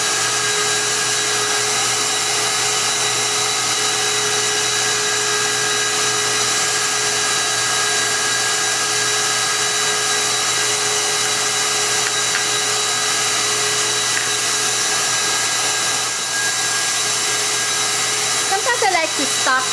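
An electric mixer whips egg whites with sugar for macarons, giving a steady loud motor whir with a constant hum that runs for the whole stretch.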